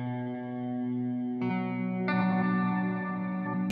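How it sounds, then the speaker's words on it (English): Sustained electric guitar notes with a wavering, modulated vibrato tone from a Meris LVX pedal, chords shifting twice as the effect colors the sound. "got like a vibrato sound that sits within here"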